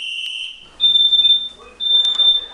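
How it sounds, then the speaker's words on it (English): A piercing smoke alarm, set off by burnt bacon, shrieks in loud repeated bursts, with a voice briefly audible in the pause between them. "alarms just went off."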